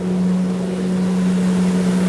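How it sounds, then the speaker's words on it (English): A road cleaning vehicle passes by, giving a steady low engine drone with a strong constant hum, fairly loud and continuous throughout with no talk. "There's like a road cleaning vehicle going past right now."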